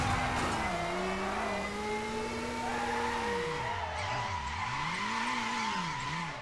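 Race car accelerating and skidding in the Midnight Club video game, a continuous engine whine that rises and dips with gear changes alongside long tire squeals, loud and steady.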